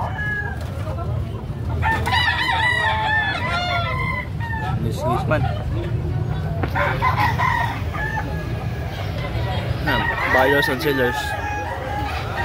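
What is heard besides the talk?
roosters crowing at a rooster expo in Cebu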